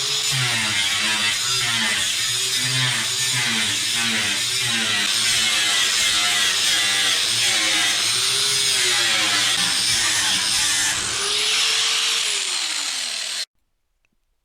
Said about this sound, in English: we're going to cut it here with the angle grinder, and that was a good efficient cutting tool